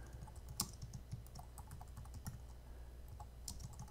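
Typing on a computer keyboard, with quiet, close, irregular key clicks in short bursts and sharper taps here and there, with no voice.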